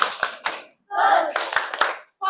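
A classroom of children claps the 'tepuk fokus' rhythm, sharp hand claps in short patterned bursts separated by brief pauses, with kids chanting along between the claps.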